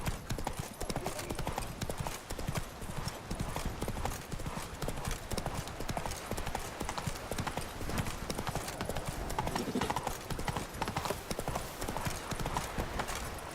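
Roach, the horse in The Witcher video game, gallops in a fast, steady drumming of hoofbeats that runs the whole time, close and loud.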